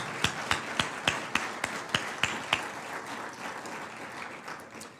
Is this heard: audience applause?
yes